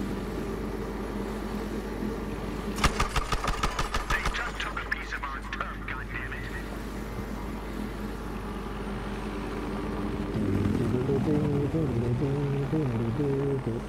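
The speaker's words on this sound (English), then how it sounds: "I'm last man in squad and then I crash my helicopter." A helicopter flown in the video game Battlefield Hardline gives a steady low rotor and engine drone. A rapid burst of gunfire cuts through briefly, and the engine tone rises and wavers toward the end.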